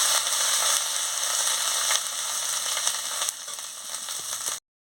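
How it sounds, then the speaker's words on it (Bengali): Spices with dried red chilli, ginger, and chilli powder frying in oil for a cabbage, sweet potato and eggplant dish, a loud continuous sizzle with occasional scraping stirs before cutting off abruptly. "দিয়ে মশলাটাকে ভালো করে ভেজে নিচ্ছি"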